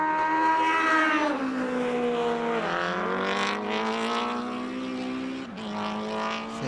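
Ducati motorcycles race on a circuit during a Ducati Owners Club track session. Loud engines scream past nearby, revving and shifting through gears, with a second bike joining toward the end.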